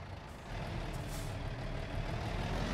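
Stock Volvo VNL 780 semi truck with a 600-horsepower engine backing up with a trailer in American Truck Simulator, a steady low engine rumble with a brief hiss, building slightly louder as it reverses.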